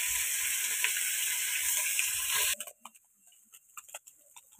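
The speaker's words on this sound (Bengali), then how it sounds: "এবার এই ফেসা মাছগুলো ভেজে নিব" Small fish frying in a pan, a steady bright sizzle for a couple of seconds that cuts off abruptly into quiet ticking and faint clatter.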